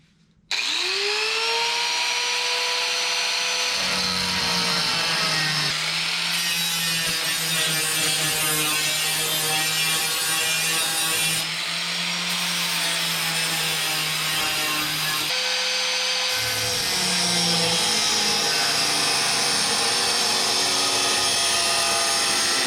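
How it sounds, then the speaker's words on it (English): Power tools cutting and grinding out the metal floor of a 1958 Plymouth, a loud continuous high-pitched whine with a steady hum beneath, broken by short pauses and restarts. "Cutting and grinding."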